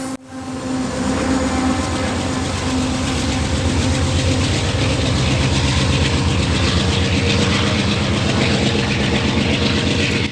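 A Canadian Pacific coal train rumbles past with a rebuilt AC4400CWM locomotive pushing at the rear, a loud, continuous heavy diesel drone with rolling rail noise, close by and unbroken.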